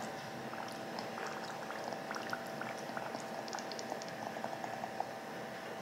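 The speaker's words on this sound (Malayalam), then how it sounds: "ഞാൻ ഇത്തിരി തിളച്ച വെള്ളത്തിലേക്ക് ഇടുകയാണ്." Mussels dropped into a pot of boiling water, giving a steady close bubbling and simmering hiss with small pops throughout, no talk.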